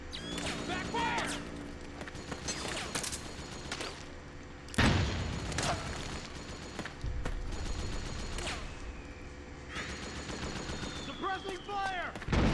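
Rapid bursts of gunfire and machine-gun volleys crackle through a Metal Gear Solid 4 battle on PS3, with loud impacts and shouted voices mixed among the shooting.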